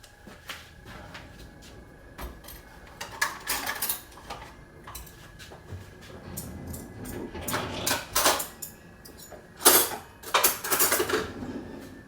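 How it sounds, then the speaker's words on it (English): Dishes being washed: pots and cutlery clatter in irregular clinks and clunks, close by, with louder clustered bursts between quieter rattles and no talking. "Dishes. I hate the fucking things."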